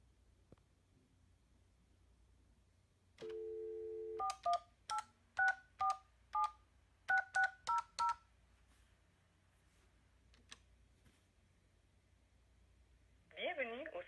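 A Cisco 7940 IP phone dials out: a long single tone, then a quick run of about ten short, clean DTMF keypress beeps in an irregular rhythm, quiet pauses, and a faint automated voice starting at the end.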